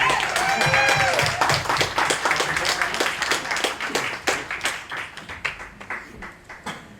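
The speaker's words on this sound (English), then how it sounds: "Round of applause, thank you." Audience applause at a talk fades out over several seconds, starting as a dense wash of claps with a few whoops, then thinning into sparse, distinct individual hand claps near the end.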